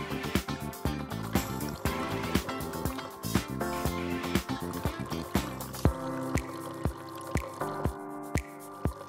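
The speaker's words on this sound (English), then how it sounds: "the water flow will start and stop." A NESCAFÉ Dolce Gusto Genio 2 coffee machine pushes water through during descaling. The flow starts and stops in a rhythm of wet spurts, drips and sputtering pump pulses, close up and moderately loud.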